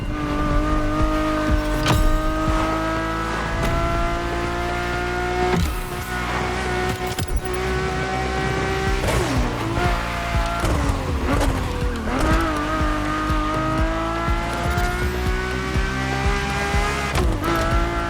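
Ferrari F40 and F50 cars in the racing game The Crew Motorfest roar at high revs with rising and falling engine notes, gear shifts and occasional tire squeal, loud and continuous throughout with no voices.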